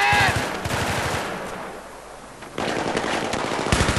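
Bursts of automatic gunfire from Battlefield 3 video game combat, rapid repeated shots loud and close at the start, fading to a quieter rumble, then returning in heavy volleys near the end.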